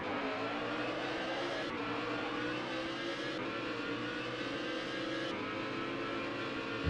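Racing car engines rev and accelerate off the start in the touring-car racing game ToCA 2, a steady loud engine drone from a grid of cars with rising pitch, continuous throughout with no talking.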